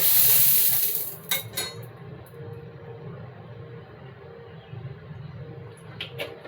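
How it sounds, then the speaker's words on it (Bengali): Mustard oil pours into a hot wok for a Bengali tilapia fish curry, giving a bright hissing rush for about a second. Then come a few close metallic clinks and a low, steady kitchen rumble. "চলুন, আমার কড়াটা গরম হয়ে গেছে, আমি দিয়ে দিই সরিষার তেল"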